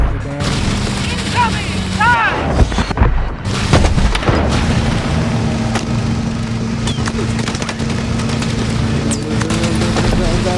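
Missile explosions from Call of Duty: Advanced Warfare rumble through a dense, continuous battle din, with booming blasts and chaotic noise throughout and voices shouting in the mix.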